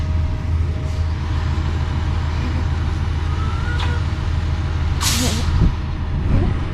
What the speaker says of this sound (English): Look at the cement truck.